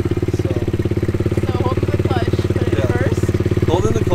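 A dirt bike engine runs close by with a steady, throbbing chug that barely changes in pitch, as people talk over it.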